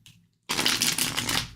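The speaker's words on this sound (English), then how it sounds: "Let us shuffle." Playing cards riffle-shuffled at close range for about a second, a dense burst of rapid flutter and snapping after a short quiet pause, with no talk over it.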